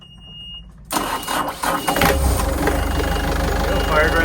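The engine of a 2008 Island Packet 370 sailboat cranks and fires on a cold start, settling into a loud, steady idle after a short quiet stretch, with people talking over it.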